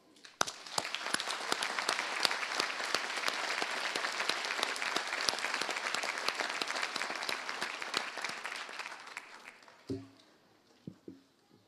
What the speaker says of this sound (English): long round of applause.